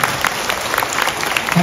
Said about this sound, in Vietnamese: Quý vị ơi, vỗ tay nữa đi quý vị